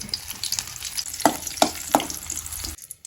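Steady sizzling of onions frying in hot oil, with a few sharp clinks of a utensil against the pan standing out near the end.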